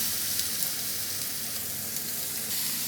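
Grated beetroot sizzles in a pan with fried onions, a steady soft hiss of frying with faint stirring scrapes, close and fairly quiet, with no voices.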